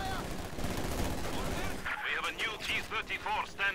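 Machine gun fire in Company of Heroes 2, a WWII strategy game, with dense continuous battle noise giving way to bursts of shots and whistling effects in the second half; a voice talks over the first part.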